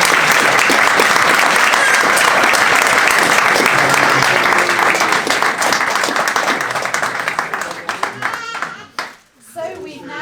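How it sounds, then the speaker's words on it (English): Wedding guests break into loud, dense applause at a ceremony. The clapping carries on strongly for several seconds, then thins and fades into scattered claps and faint voices near the end. "Ladies and gentlemen, I think they deserve a round of applause."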